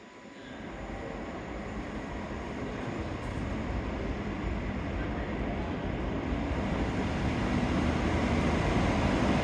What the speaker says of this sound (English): This is my train, gonna take me to Paignton.